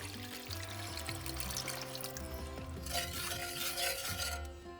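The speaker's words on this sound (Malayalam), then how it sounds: "ഇതിലേക്ക് ഞാൻ 1 കപ്പ് വിനിഗറാണ് ചേർക്കുന്നത്." A cup of vinegar is poured into a pan of cooked spice paste for Kerala-style fish pickle, a close, steady liquid pour with faint sizzling and stirring, no voices.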